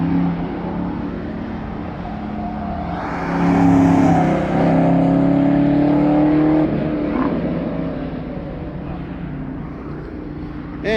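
A race car pushes hard through the final corner of the Lanier oval, engine note rising loudly and holding strong as it sweeps past close by, then fading slightly.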